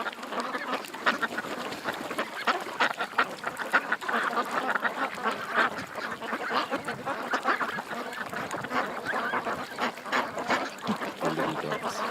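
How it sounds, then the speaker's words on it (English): A flock of ducks quacks loudly and continuously, many overlapping calls close by with some goose-like honks mixed in, outdoors on calm water. "They're quacking away. Oh, they're so loud."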